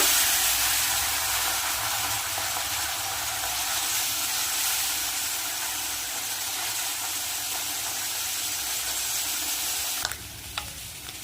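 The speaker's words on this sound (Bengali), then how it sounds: "মাছগুলো এবার আমি ভেজে নেব" Small mourala fish fry in hot oil with a loud, steady, close sizzle and hiss that holds evenly, then a couple of sharp clatters near the end.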